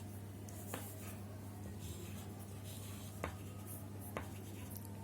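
A pen or pencil writes numbers by hand during square-root working, a soft scratchy stroking close by over a steady low hum, with no talking.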